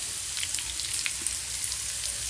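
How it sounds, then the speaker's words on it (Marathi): Spice paste sizzles steadily in hot oil, a close, even crackling hiss with faint popping throughout and no voices. "हे वाटण टाकते मी आता यात एक एक सेकंद ते दोन सेकंद याला फ्राय होऊ देऊ आपण"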